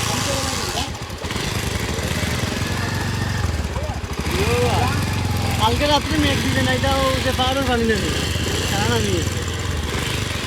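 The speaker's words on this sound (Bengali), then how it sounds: "একটা বাইক খুব কষ্ট যাওয়ার চেষ্টা করে" A motorbike engine labours through floodwater in Kulaura, a steady mid-pitched drone close by with shifting revving, while someone talks over it throughout.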